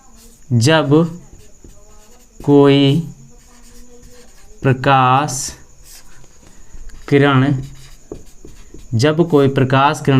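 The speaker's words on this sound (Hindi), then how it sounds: "देखो मैं परिभाषा लिख देता हूँ।" A physics definition is written out by hand with a pen, giving faint scratching strokes in the pauses between spoken phrases from a nearby voice.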